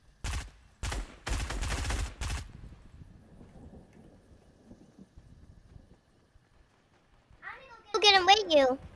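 Bursts of Fortnite video game gunfire, several loud rapid volleys in the first two seconds, then a quieter stretch with faint game sounds, ending in another burst of sharp shots.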